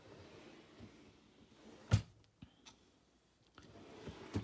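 A storage drawer in a stationery and craft supply organizer is pulled open, giving a sharp knock followed by softer sliding clicks and taps, quiet and close.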